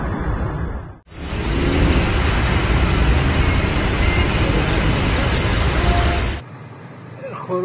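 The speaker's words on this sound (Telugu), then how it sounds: "కిలోమీటర్ల మేర ట్రాఫిక్" Road traffic on a congested highway leading out of Tehran, a loud continuous roar of passing cars and buses recorded close up for several seconds, with quieter ambience before and after.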